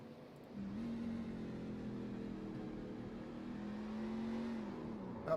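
Race truck engine in an online racing video game, a steady droning tone that rises slightly in pitch, held continuously and fairly close with no talk over it.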